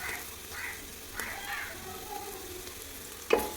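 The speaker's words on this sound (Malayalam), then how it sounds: "ഇനി നമുക്കിത് ഇതിലേക്ക് ഇഞ്ചി വെളുത്തുള്ളി ചതച്ചതിട്ട് കൊടുക്കട്ടോ." Crushed ginger and garlic frying in a pan while making beef varattiyathu, a soft steady sizzle with a few light stirring scrapes and a sharp clatter near the end.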